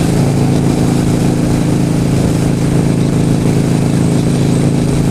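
A Harley-Davidson Sportster 72 cruises down the freeway, its engine droning loud and steady beneath heavy rushing wind noise with no break.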